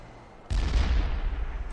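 Cannon fire in the Halo Wars strategy game: a sudden loud blast that keeps rumbling and roaring for over a second after a quiet lead-in, with no talking over it.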